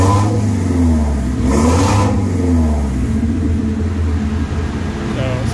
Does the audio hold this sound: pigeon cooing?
no